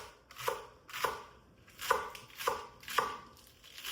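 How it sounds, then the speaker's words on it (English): A knife dices green onions on a cutting board, giving about six crisp, evenly spaced chops close by with no talking. "I'm going to dice some green onions to put on the bowls too"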